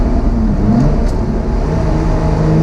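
Lotus Exige Sport 380 engine revving inside a road tunnel, a loud, steady mid-range drone with a slight rise in pitch, heard continuously with no talking.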